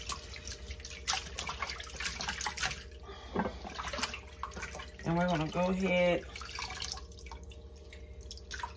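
Water drips and splashes in a sink while chitterlings are rinsed in cold salted water, close and moderately loud with a steady faucet-like hiss, as a person talks over it.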